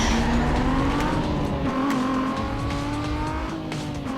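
A stock Lexus launches hard in Need for Speed Most Wanted, its engine loud and close as it revs up through rising gears with some tire noise, heard alone without talk.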